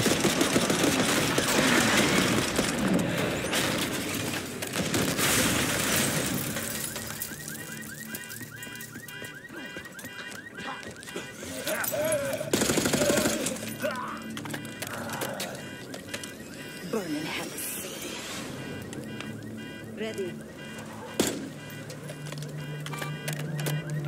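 Gunfire in the video game Call of Duty: Black Ops 6 rattles in dense automatic bursts over a busy mix of mechanical clatter and game effects, heavy at the start and then thinner with scattered shots.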